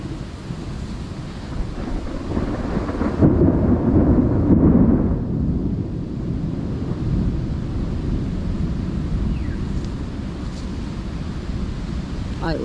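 A deep, low rumble of thunder swells and rolls amid constant wind and roaring noise, heavy and sustained, with no voices, just before a very heavy rainstorm with lightning.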